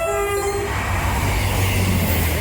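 Train pulling into Shippea Hill station, a loud rumbling roar of wheels on rail with a brief horn tone at the start, close and continuous.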